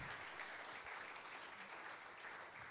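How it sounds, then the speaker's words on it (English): A live podcast audience in Atlanta keeps up a continuous, dense roll of applause, faint and blended as if heard from across the room. "give yourself a round of applause Please."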